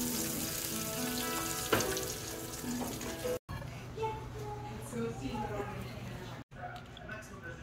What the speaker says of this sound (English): Put in French fries and dove nuggets.